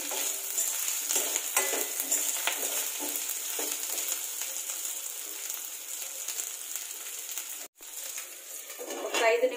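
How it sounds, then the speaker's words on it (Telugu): Drumsticks and onions frying in oil, a dense, close sizzle with the scrape of stirring running through it, a brief silent cut near the end, then the sizzle resumes. "ములక్కాయలు ఇవి కూడా కొంచెం ఆయిల్ లో ఫ్రై అవ్వాలి"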